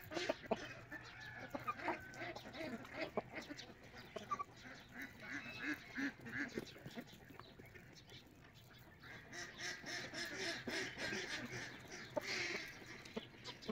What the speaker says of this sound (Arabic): هننزل الديك ده ونطلع الديك التاني